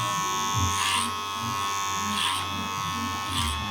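Electric hair clippers buzz steadily and close while blending a short fade on curly hair, their tone swelling a little at regular intervals as they pass through the hair.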